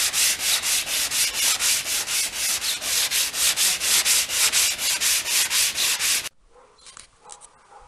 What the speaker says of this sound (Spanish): ahora le pasaré lijas más finas